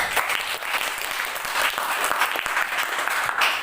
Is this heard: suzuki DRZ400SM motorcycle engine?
no